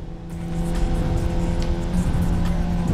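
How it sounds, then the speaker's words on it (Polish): Golf GTI drifting in Need for Speed Payback: a steady, loud engine drone with sustained tonal hum and tire noise, continuous throughout without speech. "mamy tutaj wyzwanie, żeby przedriftować 800 metrów golfem"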